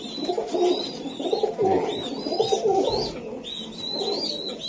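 Young Budapest pigeons coo in a pen, repeated throaty rolling coos over higher chirping notes, steady and fairly close, with no voices.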